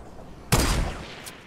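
Gunfire in Fortnite: Battle Royale, a single sharp loud shot with a rattling burst and decaying tail, followed by a faint second report about a second later, with no talking.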